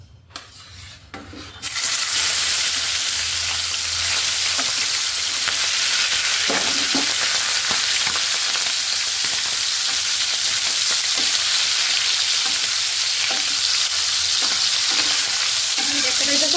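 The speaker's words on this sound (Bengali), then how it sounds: "প্রথমে চিংড়ি মাছটা ভাজা নেব হালকা।" Prawns fry in hot mustard oil with a loud, dense, steady sizzle that starts abruptly after a quiet moment and continues unbroken, with occasional light scrapes of a utensil and no voices.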